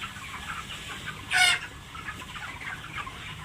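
Broiler chickens about 31 days old on a raised slatted platform farm, a steady murmur of flock chirps and clucks with one brief louder squawk standing out midway.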